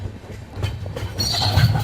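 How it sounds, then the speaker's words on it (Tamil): A passenger train, the 08581 Visakhapatnam to Bengaluru service, rolls into Kuppam railway station with a steady rumble of wheels on track, rising toward a squealing, clattering stretch near the end. "நம்ம கரெக்டா 11 மணிக்கு குப்பம் ரயில்வே ஸ்டேஷன் என்டர் ஆயிட்டு இருக்கோம்"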